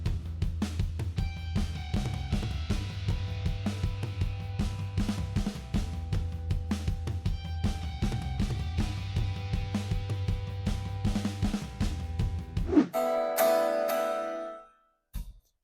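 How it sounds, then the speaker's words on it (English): A perfectly tuned, intonated Stratocaster electric guitar plays through an amp, riffing in a steady rhythm with a strong low end, then ends on a ringing bright chord that fades out. "That's a perfectly tuned guitar that's intonated."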